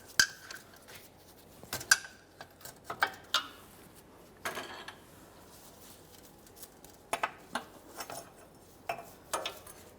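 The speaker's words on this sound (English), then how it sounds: "We'll just pry this up and out of place." Metal bracket being pried off a sway bar bushing on a 2011-2020 Toyota Sienna, giving sharp clanks, clicks and scraping taps in irregular bursts, close and fairly loud.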